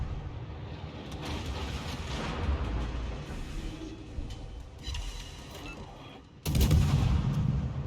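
An enemy ship fires on the player in a naval battle video game, with booming cannon shots over a steady rumble and a loud, close burst of fire near the end.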